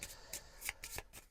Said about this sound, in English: Again, we are shuffling the pile.